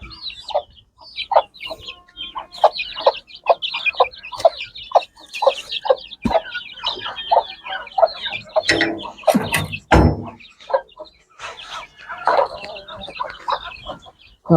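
Chickens cluck repeatedly in quick, uneven bursts close by, with chirpy calls overlapping and a louder squawk partway through.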